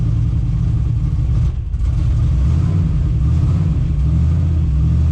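A turbocharged LS engine in a C10 pickup idles roughly just after a cold start, a loud, steady low rumble with a slightly uneven pulse and a brief dip in level partway through, no voices.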